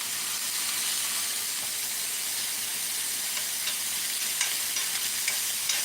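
Steak sears in a cast iron pan with a loud, steady hissing sizzle throughout, a few faint ticks and pops rising near the end.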